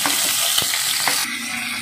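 Green chillies crackle and sizzle loudly in hot coconut oil, a dense, continuous frying hiss with a few scraping stirs, no voices.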